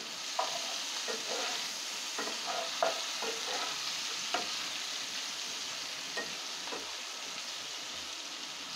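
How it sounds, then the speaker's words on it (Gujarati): Boiled, stuffed bitter gourds are stirred and sautéed in oil in a kadai. A steady, soft sizzle runs underneath, broken by occasional scraping clinks of the spoon against the pan, and no one speaks. "કારેલા તેલમાં સારી રીતે સંતળાઈ જવા જોઈએ."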